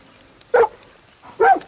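Two sharp dog barks in Far Cry 6, spaced about a second apart, loud and close with quiet between them.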